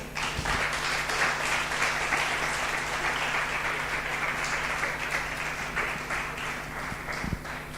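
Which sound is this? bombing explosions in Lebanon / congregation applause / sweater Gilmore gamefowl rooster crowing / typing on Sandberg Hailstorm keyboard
congregation applause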